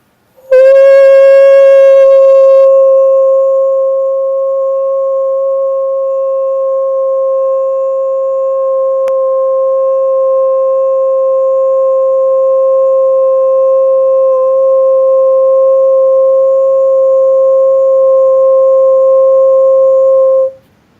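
A pair of steady electronic tones sounds loudly and without a break for about twenty seconds. Their start is bright and buzzy, then they settle into pure, even sine-like hums that end abruptly.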